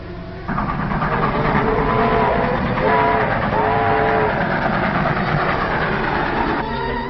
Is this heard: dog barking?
no